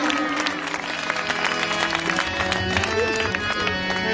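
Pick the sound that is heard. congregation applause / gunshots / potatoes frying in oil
congregation applause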